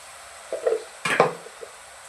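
Curry with tomato is stirred in a pan, with two short scraping, sizzling bursts of a spoon moving through the mixture, close and fairly quiet, with brief pauses and no talk.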